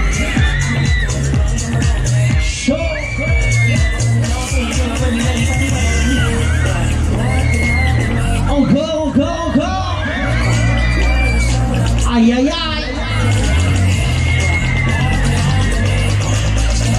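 Crowd at a high-energy show shouting, whooping and cheering continuously and loudly, with pulsing music and an amplified voice mixed into the din.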